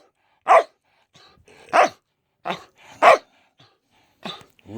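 A Blue Merle Sheltie gives several sharp, separate barks, spaced about a second apart, close and clear in a quiet room.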